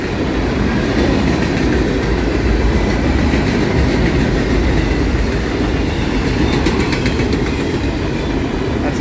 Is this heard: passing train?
yes